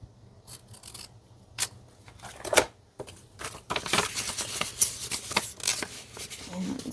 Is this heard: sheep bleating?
no